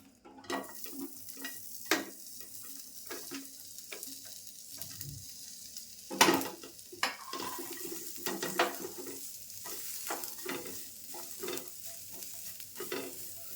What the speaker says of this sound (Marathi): आता मी कांदा आणि कोथिंबीर भाजून घेते अगोदर कांदा टाकते